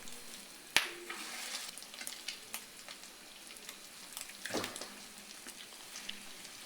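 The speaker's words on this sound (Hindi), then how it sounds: "दूसरे बैच में भी हम इसी तरह ये कबाब डालेंगे।" Egg and potato kebabs fry in ghee with a soft, continuous sizzle, a sharp clatter near the start and scattered light scrapes and pops throughout.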